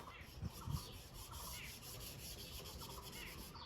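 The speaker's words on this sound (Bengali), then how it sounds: "সম্পূর্ণ পরিষ্কার পরিচ্ছন্নভাবে পালিশ করি" Hand polishing of a wooden box bed: continuous soft rubbing strokes on wood, with a couple of brief thumps early on, heard close and faint with no voices.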